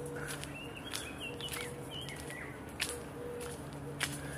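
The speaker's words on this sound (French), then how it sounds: "Je pense que le chant des oiseaux, vous l'entendrez." Birds sing and chirp faintly in an arboretum park, with short thin calls scattered over a steady low background hum and a few soft knocks, and no one speaking.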